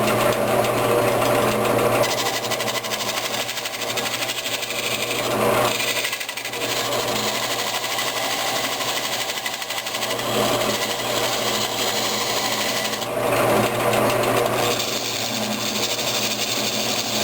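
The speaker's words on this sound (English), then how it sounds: "Shape up my tenon with a skew." Skew chisel shaping a walnut tenon on a spinning wood lathe, a loud continuous scraping rasp over the steady hum of the machine, steady for the whole stretch with slight swells.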